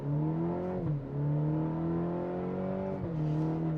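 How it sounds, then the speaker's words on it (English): A 2022 Cadillac CT4-V launches under launch control, its engine drone climbing steadily in pitch, dipping briefly at a gear change and rising again, loud and close with no talking. "we're gonna launch control the CT4-V now"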